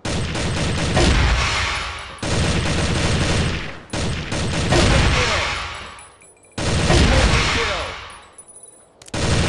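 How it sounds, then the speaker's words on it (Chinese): Four loud bursts of automatic gunfire come from the mobile shooter Crossfire: Legends. Each sustained volley cuts off abruptly and trails into a brief echo before the next begins. "以瞄准敌人，开火。"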